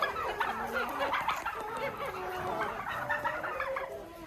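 Several farm turkeys gobble and cluck in a busy, overlapping chorus, close by and fairly loud, with no other voices.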